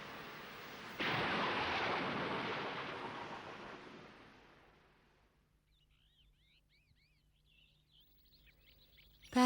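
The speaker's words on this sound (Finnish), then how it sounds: "merellä on nyt korkea aallokko" Cartoon sound effect of high, rough sea waves: a loud broad surf roar that starts abruptly about a second in, swells, then fades away over several seconds into quiet, leaving faint chirping sounds at the end.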